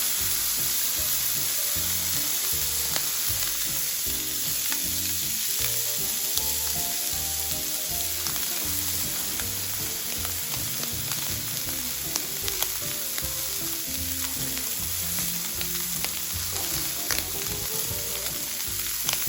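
Wagyu steaks fry in butter with thyme in a hot pan, giving a loud, steady, close sizzle that holds unbroken for the whole stretch with scattered crackles and pops.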